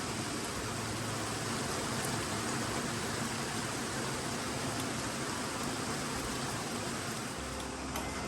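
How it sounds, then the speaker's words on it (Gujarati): A downpour of heavy rain hisses continuously and evenly, a thick, unbroken wash of sound close by. "ઓ માય ગોડ, કેટલો વરસાદ આવે છે આજે."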